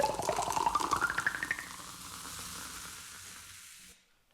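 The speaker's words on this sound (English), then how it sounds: "let's play the iconic pop and pour Coke sound" Coca-Cola pop and pour advertising sound: a bright fizzing pour with a rising tone and rapid bubbly crackle, loud at first, then settling into a steady hiss of carbonation that cuts off abruptly.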